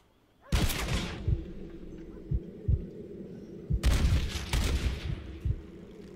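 Rifle gunfire in the video game Red Dead Redemption: a string of sharp, booming shots at uneven intervals, with a loud burst of several rapid shots near the end and faint voices underneath.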